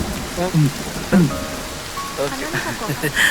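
Steady rain falls in a film scene, a constant hiss of drops beneath people talking close by, with the rain holding an even level throughout.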